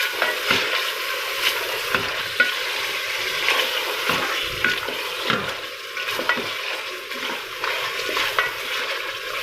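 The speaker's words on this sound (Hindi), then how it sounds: "अब हम इसमें ऐड करेंगे चिकन।" Half a kilo of chicken sizzles and fries in a pan for a kaddu gosht curry, with steady frying hiss broken by irregular scraping stirs and light clinks of a utensil against the pan, close and continuous.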